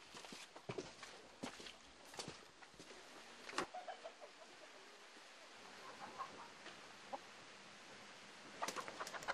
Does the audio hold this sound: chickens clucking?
yes